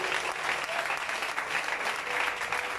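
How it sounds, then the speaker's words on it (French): Brief burst of steady applause and clapping from a church congregation during a French-language worship service, moderately distant and continuous with no pauses. "Si on doit adorer Jésus, acclame le Seigneur alors."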